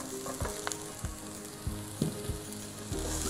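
Peeled whole garlic with ginger sizzles and fries in a hot pan for beef kumbanadan, with soft stirring scrapes and small spoon knocks over a steady close crackle.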